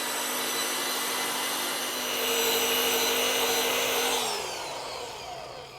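A machine polisher runs steadily on fast-drying Cromax CC6500 high-performance VOC car clearcoat, a loud continuous whirring hum that lifts slightly in the middle and then winds down in pitch near the end.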